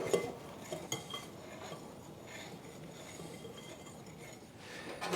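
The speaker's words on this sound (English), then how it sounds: "Whisk." Wire whisk stirring salt and cornstarch into other ingredients in a bowl, a steady soft scraping rustle with light clinks against the bowl, close and fairly quiet.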